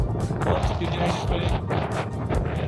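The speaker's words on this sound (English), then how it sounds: "It's super windy," Strong wind roars and buffets the microphone in uneven gusts at about 4,300 meters altitude in Tajikistan, loud and close throughout.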